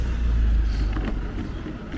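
A car passes along a road on a university campus, running a red light; the low engine rumble and tyre noise swell near the start, then ease off through a steady background.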